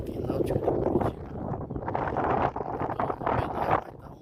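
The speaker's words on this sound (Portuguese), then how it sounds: "vai dar um vento, muito forte o vento" Strong wind roars steadily at the lake in Curitiba's Parque Náutico, buffeting the microphone of a moving cyclist and swelling in gusts, with a voice speaking over it.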